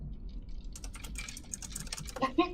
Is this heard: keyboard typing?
yes